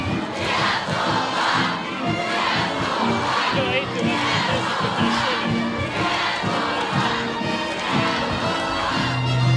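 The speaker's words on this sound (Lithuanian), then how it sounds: "jie mus girdi, skanduojam Lietuva! Lietuva! Lietuva!" A large crowd in Kaunas shouts and chants in a steady rhythm as it welcomes the Lithuanian basketball team home from EuroBasket 2015. The roar is dense and sustained, with repeated chant bursts rising above the mass of voices.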